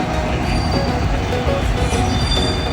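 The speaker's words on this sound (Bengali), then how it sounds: "ট্রেন যাচ্ছে" A train passes close by near Kamalapur railway station in Dhaka, by the Titipara underpass, giving a continuous loud rumble and rattle of wheels on rails with faint squealing, unbroken throughout.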